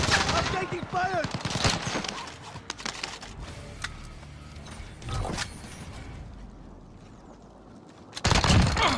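Call of Duty Rebirth Island gameplay with scattered bursts of incoming gunfire, some close and sharp and others more distant, along with clicks, a loud burst at the end and intermittent voices.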